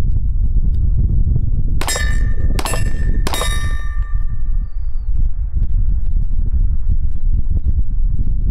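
Three loud metallic clangs of bullets hitting a steel target at a shooting range ring out in quick succession, each leaving a bright humming tone, over a constant rumble of wind or outdoor noise.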